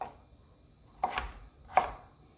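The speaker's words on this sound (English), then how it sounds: "everything you gotta hold it firm with the knife so you know it's cut through properly" A knife chopping vegetables for a Jamaican vegan zucchini and gungo peas rundown: two firm, separate cuts through to the board about three-quarters of a second apart, close and clear over a quiet background.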